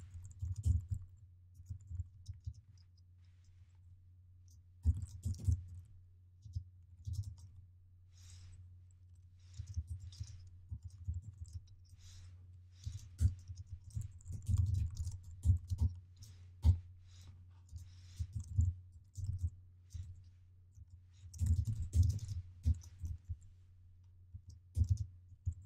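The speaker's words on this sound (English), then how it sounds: "I'm going to type the following." Steady typing on a computer keyboard, a close, fairly dense run of key clicks with short pauses and occasional heavier keystrokes, alone with no talk over a low constant hum.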